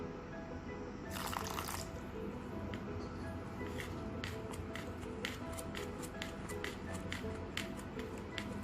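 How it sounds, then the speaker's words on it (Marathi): Water trickles into a sattu flour mixture in a bowl, with a brief louder splash of pouring followed by a series of small drips and clicks over a steady background hum. "आपण थोडं पाणी पण घालू"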